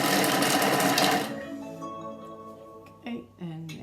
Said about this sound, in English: I'm going to a speed of 5. We can just see the little line there turning round so we can chop those onions and garlic